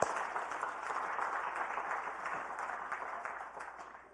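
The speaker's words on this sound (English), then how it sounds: "Can we just give the Lord a hand of applause?" A church congregation claps together during a worship service: dense, even applause that holds steady for a few seconds, then begins to thin and fade near the end.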